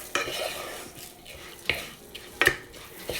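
Rice grains being stirred in melted butter in a hot pan: a few scraping, clattering strokes of a utensil against the pan over a soft background sizzle, close by.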